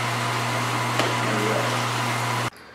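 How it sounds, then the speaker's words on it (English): A fan running steadily while biodiesel dries, a loud constant mechanical hum and whoosh that cuts off sharply near the end. "The fan's running."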